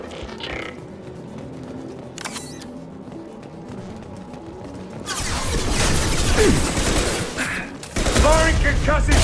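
Gunfire in the Mass Effect video game, with bursts of shots, impacts and crashes growing louder in the second half amid grunts and mechanical clatter.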